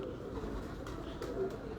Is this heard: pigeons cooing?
yes